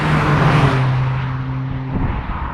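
A Toyota GR Corolla engine pulls hard under turbo boost while driving, a steady loud drone with a rising tone that holds near and continuous throughout.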